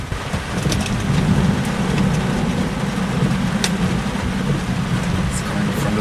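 A Florida thunderstorm with nearby lightning strikes brings heavy rain drumming steadily and a low rolling rumble of thunder underneath, loud and continuous with no clear pauses.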